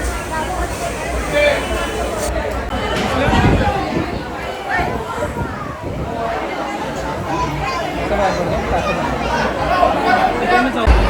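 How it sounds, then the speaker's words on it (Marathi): A crowd of devotees gathers at the Gaondevi temple fair in Mothagaon, Dombivli, during the palkhi celebration, producing dense, continuous chatter and babble from many voices close by, with faint shuffling underneath. "दर्शनासाठी गर्दी बघू शकता किती आहे ती"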